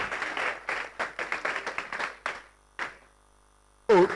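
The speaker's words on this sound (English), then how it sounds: "I think that's a round of applause." A short run of individual hand claps at a West African College of Physicians public lecture in Ghana, fairly close and separate, ending in a pause before a voice cuts in.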